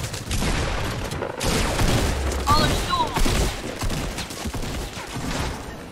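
Shotgun and pistol fire rattles in a shooter video game, with dense overlapping bursts and booms running throughout while people talk over the action.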